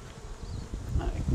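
Honey bees buzz steadily and close by while a hive is opened for a brood inspection, a dense continuous hum with no talking.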